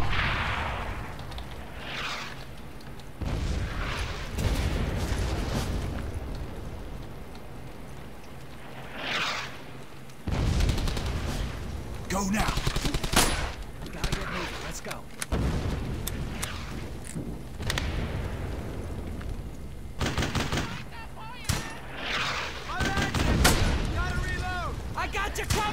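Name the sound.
gunfire in a video game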